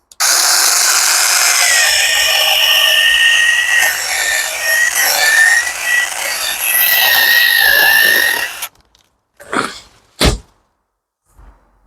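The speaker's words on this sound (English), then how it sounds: "That is a very good, strong chainsaw." A cordless 20V chainsaw roars steadily at close range for about eight seconds while cutting wood, then cuts out, followed by a few short bursts of revving.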